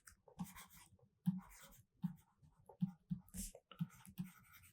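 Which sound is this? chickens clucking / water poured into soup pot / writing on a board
writing on a board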